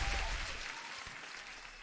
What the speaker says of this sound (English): Again, another applause for passing the account.